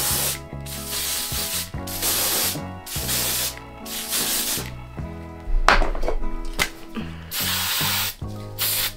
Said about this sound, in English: Now we're gonna take the same hairspray and seal it in